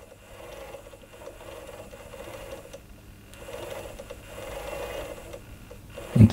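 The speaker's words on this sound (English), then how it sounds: "Let's go to 180 and we move this motor slowly" A Yaesu G-2700 antenna rotor motor turns slowly, giving a soft, steady mechanical whir with faint gear ticking, quiet and close, ending in a brief louder clunk.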